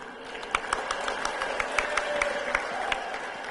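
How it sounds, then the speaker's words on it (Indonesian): An audience claps steadily through a hall during a speech by Prabowo, a continuous mass of hand claps with irregular sharper claps poking through and a faint background hum. "Jangan terlalu cepat tepuk tangan."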